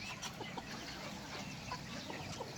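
Chickens clucking softly in short scattered bursts against a dense, noisy outdoor backdrop, with no one speaking.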